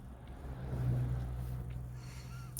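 A Formula 1 car engine in a racing video game at the 2021 Abu Dhabi Grand Prix gives a faint, low, muffled rumble that swells briefly and then settles.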